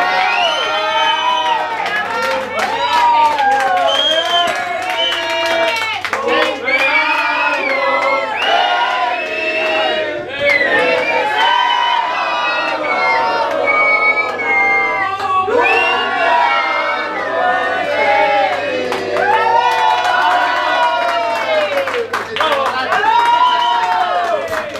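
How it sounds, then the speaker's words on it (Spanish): Crowd cheering, whooping and clapping for a girl's birthday at a live concert in a café, loud and sustained throughout with shouts and voices mixed in. "un fuerte aplauso a Blanca."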